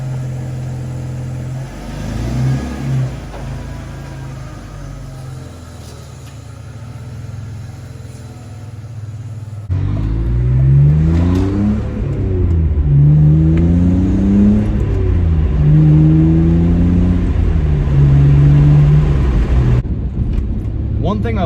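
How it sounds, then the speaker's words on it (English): A BMW E46 fitted with a cold air intake drives along, its engine and deeper exhaust note droning low, then rising in pitch through repeated revving gear pulls after a louder shift midway. "my exhaust note sounds a little bit deeper. I don't, it's not any quicker at all. There's a lot more engine noise"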